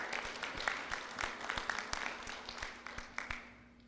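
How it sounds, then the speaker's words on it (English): Quiet scattered clapping from a district conference audience, individual claps distinct and somewhat distant, fading slightly toward the end. "You guys deserve a round of applause."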